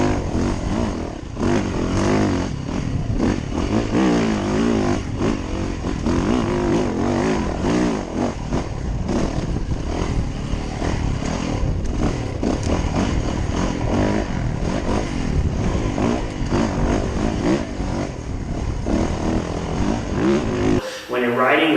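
Onboard ride on a Yamaha YZ450FX off-road motorcycle, its loud engine droning and revving continuously up close with wind buffeting throughout, ending abruptly near the end.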